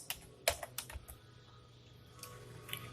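C++ code being typed on a computer keyboard, a handful of close, crisp key clicks in irregular bursts, with quiet pauses between them and no talking.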